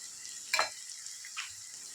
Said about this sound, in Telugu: మనకి ఇప్పుడు వేగిపోయిన టైంలోనే కొబ్బరికూర కూడా వేసేసుకుంటున్నాము